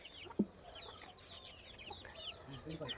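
Chickens cluck softly in short, scattered calls around a backyard plot with young vegetable plants, fairly close but not loud, with a brief sharper sound early on and steady outdoor background.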